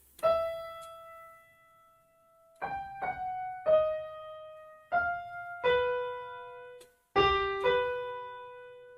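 A keyboard plays a short section of a theme, about nine separate notes rising and falling, some sustained and a quick pair near the end, each decaying cleanly, nearby with no talking.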